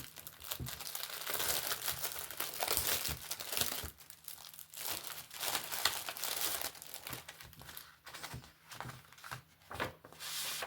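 Paper packaging crumples and crinkles steadily for several seconds, close by, with sharp rustling bursts and no talking.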